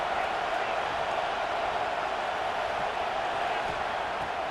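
Stadium crowd noise in EA Sports College Football 26, a steady, dense roar of fans held at an even level throughout with no distinct cheers or peaks.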